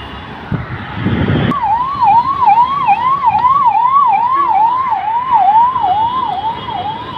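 An ambulance siren on a road wails loud and close in a steady rising-and-falling cycle, repeating continuously over traffic rumble after a brief burst of noise at the start.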